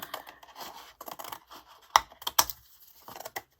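Scissors cutting along the bottom edge of paper for a yellow sunflower home decor craft, a few crisp snips and rustling paper sounds, close and quiet with short pauses between cuts.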